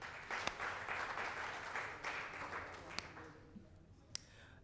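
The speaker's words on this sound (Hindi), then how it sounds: "एक बार अपने लिए ताली बजा लीजिए।" An open mic audience at an awards event claps together, steady crowd applause with a few sharper individual claps standing out, fading somewhat toward the end.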